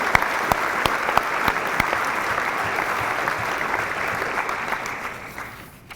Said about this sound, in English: Please join me in providing Mr. Martin another round of applause